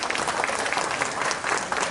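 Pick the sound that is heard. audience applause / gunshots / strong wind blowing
audience applause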